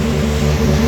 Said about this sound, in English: the sound that you hear is the Acura Type S